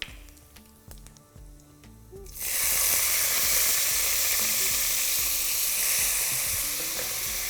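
Cumin dropped into hot ghee for a dal tadka hits with a sudden loud sizzle after a quieter start, then crackles and hisses steadily and close for several seconds.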